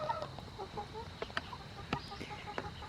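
Hens cluck softly in a backyard coop enclosure, a steady run of short, scattered calls with a few sharper squawks over low outdoor background noise.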